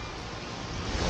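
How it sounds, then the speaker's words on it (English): Wind blusters across an outdoor yard where a drone is about to launch, a steady broad rush of gusty noise hitting the microphone and swelling slightly toward the end. "It's pretty windy out right now."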